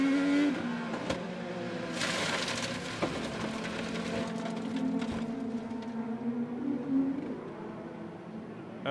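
An IndyCar race car engine heard onboard Graham Rahal's car at the Portland Grand Prix screams loudly and continuously, its pitch rising and falling through gear changes and revs, close and unbroken for nearly nine seconds.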